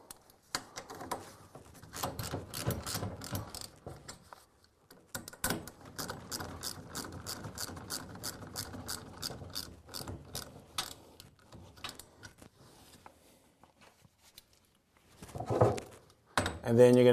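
A ratchet clicks rapidly in bursts while tightening a garage door torsion spring cable drum, close and crisp, with brief pauses between runs of clicks and a voice speaking near the end.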